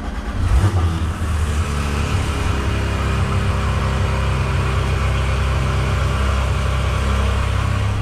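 A Porsche 911 GT3 RS (991.2) barks to life on a cold start with a quick loud flare, then settles into a loud, steady high idle that holds without break.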